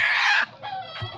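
A sick native hen with infectious coryza, held in someone's hands, gives a loud close squawking cluck, then a couple of softer short clucks.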